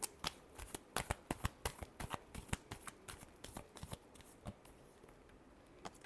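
Tarot cards are shuffled by hand, a quick series of crisp, close riffling snaps and flicks in irregular rhythm, quiet overall with no voice over it.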